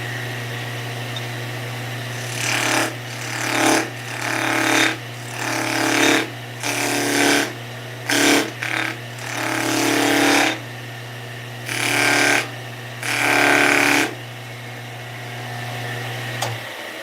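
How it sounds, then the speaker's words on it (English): A skew chisel cuts a notch into the corner of wood spinning on a lathe, making repeated bursts of scraping, chattering cuts over the lathe's steady motor hum. "I'm going to use my skew and kind of cut that corner so I don't split the corner out"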